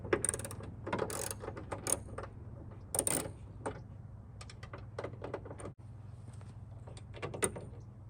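A ratchet with a deep socket loosens trunk bolts on a Mustang, giving scattered bursts of close metallic clicking and clatter over a low steady hum.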